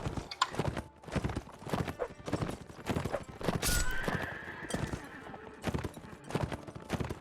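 In a video game, rapid hoofbeats clatter in a steady galloping rhythm, with a horse's whinny rising in the middle, loud and close.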